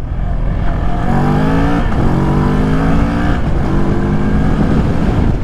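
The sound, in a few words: two-cylinder motorcycle accelerating in second gear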